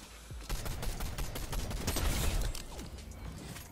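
Rapid gunfire rattles in a Fortnite match, a burst of quick repeated shots at a fairly quiet level, rising slightly in the middle before tapering off.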